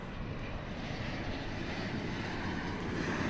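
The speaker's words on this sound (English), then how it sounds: "It's American Flight 1034, 737-800, arriving from Guadalajara in Mexico." An American Airlines Boeing 737-800 arriving at DFW Airport from Guadalajara, heard as a steady, loud broadband jet engine roar that holds constant throughout, with no voices.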